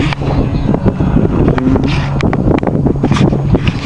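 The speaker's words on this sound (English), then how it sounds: "Windy as hell." Strong wind buffets the microphone outdoors in icy conditions. It makes a continuous loud roar with gusty swells and no talking.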